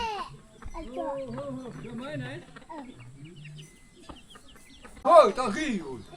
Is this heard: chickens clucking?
yes